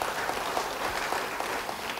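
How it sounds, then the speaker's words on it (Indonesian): A church congregation claps together in a dense, even wash of applause that is steady and fairly loud for its short length. "Beri tepuk tangan bagi dia."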